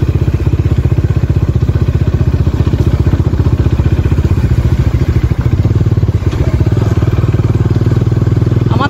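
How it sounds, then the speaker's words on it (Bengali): Three motorbikes riding through dense forest near Netarhat on the way to Lower Ghaghri Falls, their engines close and loud with a rapid, steady rattling throb throughout. "তিনটে বাইক চলেছে লোয়ার ঘাগরি ফলস দেখতে।"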